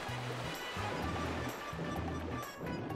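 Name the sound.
splashing in water in the video game Super Luigi Galaxy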